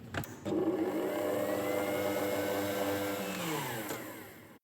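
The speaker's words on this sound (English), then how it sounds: "It's the sound of a kitchen mixer whirring and spinning as it mixes the cookie dough." A kitchen mixer mixing cookie dough whirs loudly and steadily for about four seconds, its motor pitch gently wavering before it winds down and stops.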